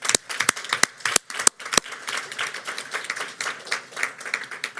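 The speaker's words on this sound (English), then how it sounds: "we should give it all a round of applause" Applause from an audience at a Baltimore City Public Schools meeting, a steady wash of many hands clapping with a few sharp louder claps early on, moderately near and fairly loud throughout.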